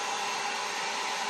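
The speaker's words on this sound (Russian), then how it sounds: "фен начинает работать почти на максимум" A hair dryer, fed through a thyristor voltage regulator, runs at nearly full power with a steady, loud, close airy roar and no pauses.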